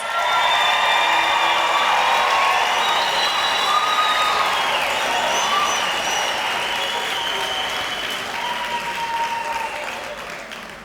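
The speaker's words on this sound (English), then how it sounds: "Let's hear some applause." A large graduation crowd applauds loudly and continuously, with scattered cheers and whoops, slowly tapering off toward the end.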